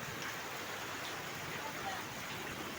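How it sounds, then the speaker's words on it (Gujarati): Steady, dense rain hisses without a break, an even wash of falling water throughout. "જો જોરદાર બહુ સારો વરસાદ આવ્યો છે"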